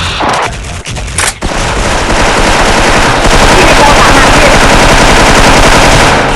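A boss in the online shooter Special Force unleashes loud, dense, sustained gunfire, a near-continuous machine-gun roar after a few sharp opening bursts.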